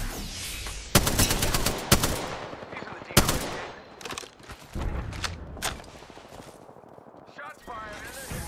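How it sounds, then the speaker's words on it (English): Gunfire in Apex Legends: several sharp, loud shots and short automatic bursts up close, with spaced heavy cracks early on giving way to quieter, scattered fire and fading clatter toward the end. "Shots fired."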